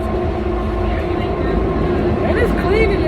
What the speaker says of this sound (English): Yo, this train is fast.